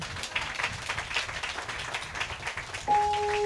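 A church congregation claps together during a baby dedication service, steady dense applause throughout, ending with a sustained tone entering near the close.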